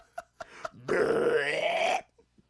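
A person's voice imitating a belch: one drawn-out, guttural croak lasting about a second, close and fairly loud, with a few faint clicks before and after.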